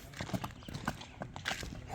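A young horse, a yearling foal in good condition, walks on a farm, its hooves clip-clopping in an uneven close rhythm against steady background noise.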